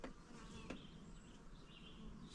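A honeybee buzzes faintly and steadily close by outdoors, a thin continuous drone with slight shifts in pitch, and no one speaks.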